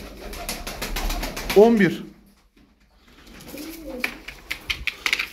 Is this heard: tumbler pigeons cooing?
yes